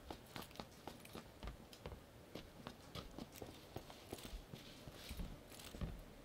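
Footsteps of a single player in PUBG first-person mode, a steady run of soft, fairly distant thuds, quiet and spaced about evenly, with no voices.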